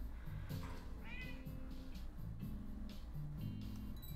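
A cat in a video game meows several times over a steady musical background, with a higher, whinier cry partway through.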